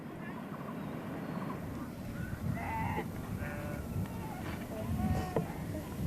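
Sheep bleat in a Gurung mountain village in Nepal, with several scattered calls rising over a steady outdoor background and a voice talking over them.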